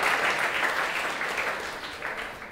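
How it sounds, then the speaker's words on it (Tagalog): A church congregation applauds for Jesus during a Sunday sermon, a broad, dense wash of many hands clapping that holds steady, then slowly thins and fades toward the end. "Come on, the best of palakpak para kay Jesus."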